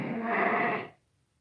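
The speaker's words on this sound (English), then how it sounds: "Castle milks are nice sheep, actually." A sheep in a lambing barn gives one loud, close, sustained bleat that ends abruptly, followed by near silence.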